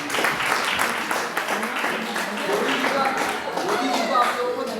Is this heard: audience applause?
yes